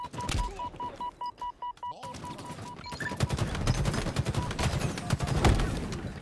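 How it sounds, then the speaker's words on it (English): Plasma pistol fire in a Halo multiplayer crossplay match: a quick string of evenly spaced electronic zaps, then a dense, chaotic stretch of overlapping weapon bursts and impacts, loud and close. "Plasma pistol."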